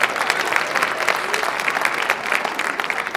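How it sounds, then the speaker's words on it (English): A lively round of audience applause at a college idol talent show as a volunteer walks up onto the stage, brisk and continuous clapping from a close crowd over a few seconds. "Let's give her a round of applause as she joins me up here."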